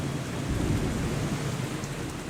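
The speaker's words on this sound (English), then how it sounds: "heavy rains began." Heavy rain pours steadily with a deep rumble of thunder rolling underneath, dense and continuous throughout.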